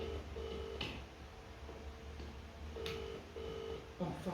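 A phone accidentally dialing a call from inside a Bedford CA camper, with short electronic tones and beeps repeating in an irregular series over a low, steady hum.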